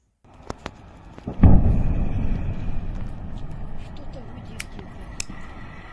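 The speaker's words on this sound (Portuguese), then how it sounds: "Dá para ver uma explosão muito grande, né? Não só do drone, mas quando o drone atinge a refinaria" A drone strike hits an oil refinery, setting off a large explosion: a sudden deep boom that swells and then rumbles on, fading slowly, with scattered sharp pops and crackles before and after, heard from a distance.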